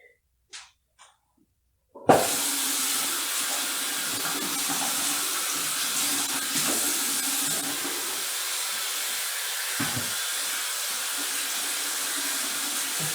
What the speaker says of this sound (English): Just washing my hands.